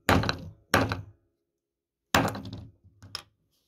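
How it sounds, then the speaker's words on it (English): A gavel bangs on a wooden block in separate sharp thunks, two quick strikes, a pause, then a further burst of knocks, loud and close with almost no talking. "Bang the gavel on your damn self."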